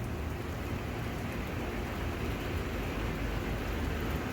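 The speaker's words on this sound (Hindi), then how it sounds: "साथ ही में बहुत तेज़ बारिश होने लग गई है।" Heavy rain pouring down during a summer thunderstorm, a constant loud hiss of falling water with no gaps or voices throughout.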